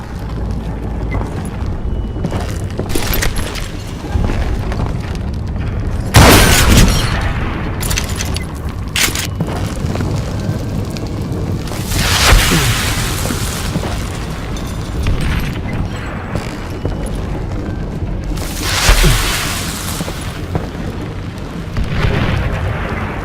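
Repeated explosions from Call of Juarez Gunslinger, a Wild West shooter game, boom loudly several times over a rumbling, busy background of game action, with bursts spaced irregularly across the stretch.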